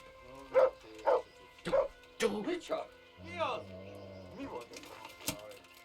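A dog in the medieval video game Kingdom Come: Deliverance gives several short yips and barks followed by whimpering, close and fairly loud, with someone talking over part of it.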